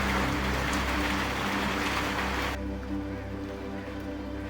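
Heavy rain pours down at Rudranath in the Himalayas, a dense continuous hiss that drops abruptly partway through to a softer, steadier patter.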